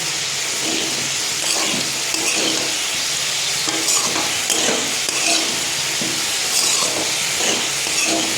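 Potatoes are stirred into curry frying in a pan, with a steady sizzle and hiss and repeated soft stirring scrapes throughout, close and continuous with no talking.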